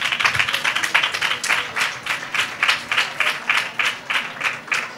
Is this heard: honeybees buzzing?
no